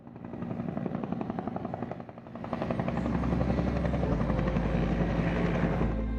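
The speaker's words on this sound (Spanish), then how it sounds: "el helicóptero agarra vuelo y empieza a andar sobre la selva" A Russian-made Mi-17 helicopter lifts off over jungle, its rotor roar loud and continuous, thickening into a steady heavy drone with a low engine rumble as it takes off.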